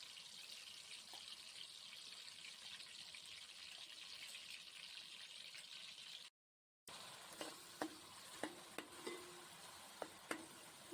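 Onion paste sizzles steadily in a hot pan for fish curry, a continuous frying hiss with a short break, then scraping stirs and small clinks of a spoon against the pan.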